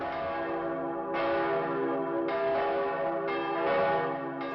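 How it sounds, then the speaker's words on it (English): Church bells ring out loudly in overlapping, sustained peals to announce the relief of a siege in Malta, the strikes renewing at regular intervals with no voices. "this cannon shot that announces the arrival of relief, long awaited and finally arrived, is followed by a raging of bell sounds"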